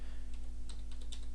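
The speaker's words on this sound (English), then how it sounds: "type in an email address" Quick keystrokes on a computer keyboard as an email address is entered, a close, crisp run of light irregular clicks with no voices.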